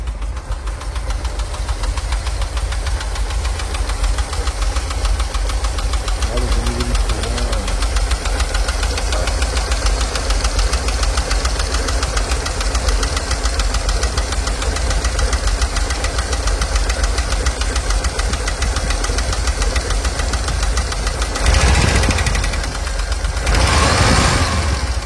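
The engine of a 1987 VW T3 Carat van idles steadily and loudly up close, a continuous even rumble with a slight knocking texture and a brief surge near the end.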